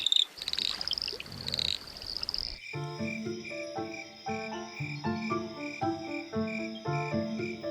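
Kloof frogs call at a breeding pool in KwaZulu-Natal, a dense chorus of rhythmic croaks and trills, loud and close, after a brief burst of insect-like noise.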